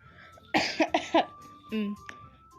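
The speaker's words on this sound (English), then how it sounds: "I think I have to cough." A burst of several quick, harsh coughs close to the mic, followed by a brief throat-clearing sound.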